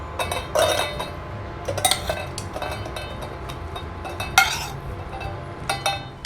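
Metallic clinks and scrapes as boiled chicken is spooned into a metal pot, a handful of irregular clanks over a low background hum, with no talking.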